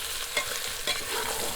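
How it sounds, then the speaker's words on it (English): Meat sizzling in a pan over a continuous frying hiss, with a couple of brief scraping stirs, close up and without any voices. "you keep frying the meat and keep stirring it from time to time"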